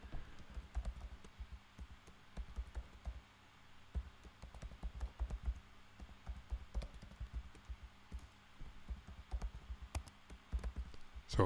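Rapid, uneven clatter of computer keyboard typing while writing code for a compiler lexer, close and fairly quiet, with bursts of keystrokes and brief pauses throughout.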